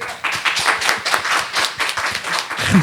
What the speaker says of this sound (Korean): 우리 큰 박수